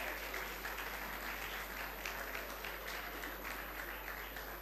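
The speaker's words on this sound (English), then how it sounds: "Please give them a good round of applause" Steady applause from an audience welcoming two guests onto the stage at a social entrepreneurship summit, continuous dense clapping at moderate level with no pauses and no clear voices over it.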